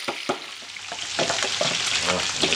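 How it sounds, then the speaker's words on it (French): Sausages and onions frying in a pan give a steady crackling sizzle with occasional stirring scrapes, close and moderately quiet. "maintenant que mes saucisses sont bien dorées, nous allons pouvoir ajouter nos oignons"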